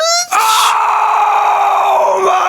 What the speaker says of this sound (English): Hollywood still thinks the screaming goat meme is funny